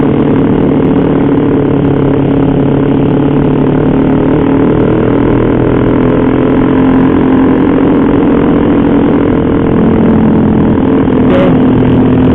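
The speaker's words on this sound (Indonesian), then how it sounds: "kita antar pulang dulu ya guys, sama knalpot bacotnya ini." A motorcycle with a loud aftermarket exhaust rumbles steadily on a ride in Indonesia, a constant dense drone heard close and from the rider's position, with wind noise mixed in.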